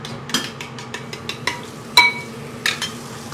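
Six small eggs fried in cold oil in a hot pan, with clinks of a utensil against cookware and soft scraping over a faint steady sizzle, a few sharper metallic taps standing out.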